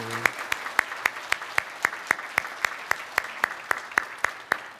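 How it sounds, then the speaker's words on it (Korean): A church congregation stands and applauds to welcome a visiting seminary professor during a Sunday worship service; about fifteen evenly spaced, sharp claps ring out in a steady rhythm, close and moderately loud, with no talking. "우리 잠깐 일어서시면 박수로 환영하도록 하겠습니다."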